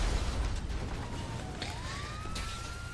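A faint police siren in the video game GTA 5 Online wails and rises in pitch in the distance, thin and high over a low rumbling background.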